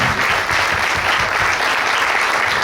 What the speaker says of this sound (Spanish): Voy a pedir un fortísimo aplauso para el autor del himno del Zaragoza